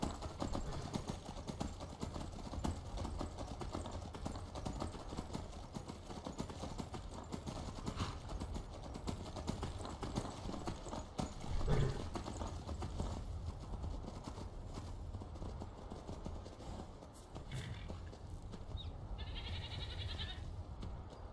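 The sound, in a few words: horses' hooves clip-clopping in the video game Skyrim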